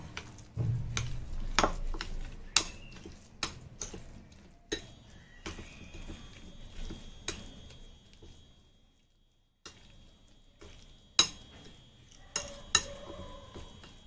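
Banana flower paste being mixed with oil and sugar for mochar paturi in a home kitchen: scattered clinks and scrapes of a spoon against a bowl, quiet and irregular, with a short silent pause partway through.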